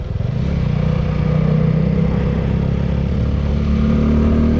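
Motorcycle on a long ride through a forest road toward Lohaghat, a loud close engine note holding a steady throttle with a slight chugging rhythm.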